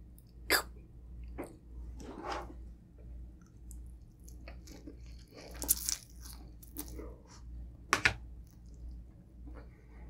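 Crunchy bites and chewing on the last mouthful of noodles during a Filipino pork belly roll mukbang, a few sharp crunches standing out over a low steady background hum.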